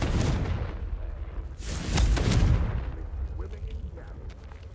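Confringo fire spell blasts in Hogwarts Legacy, two loud booming bursts with a rumbling tail and crackling debris fading after, heavy low rumble throughout.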